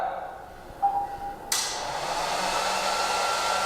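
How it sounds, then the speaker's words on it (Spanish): A hair dryer switched on by voice command starts with a click and a sudden loud whoosh, then blows in a steady roar. A faint beep comes just before. "Enciende secadora."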